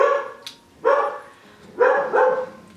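Dogs walking past outside bark several times, loud and fairly close, in short bursts separated by quiet pauses on a calm autumn day.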